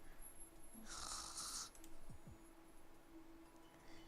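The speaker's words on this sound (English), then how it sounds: "Oh my goodness, she snores?" Sleeping character Yvonne snoring in the video game Soulset, one faint drawn-out snore with a breathy hiss over quiet game sound.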